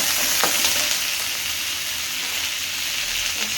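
Cashews, curry leaves and a pinch of turmeric frying in hot oil for an atukula mixture snack, a close, continuous sizzling hiss with light crackles and a brief stir, no voices.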